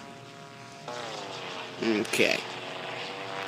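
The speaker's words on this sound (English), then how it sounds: "My plane is the P-51 Mustang." A P-51 Mustang's propeller engine drones steadily in the flight combat game Sky Gamblers: Storm Raiders, with a couple of brief louder bursts midway and a short spoken word over it.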